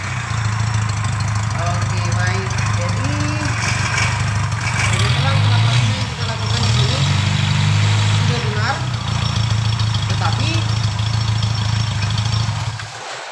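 A Toyota Kijang with the 5K engine runs after its contact-breaker points are adjusted, a loud, close, steady idle with a rough throb that holds to the end, with talk over it.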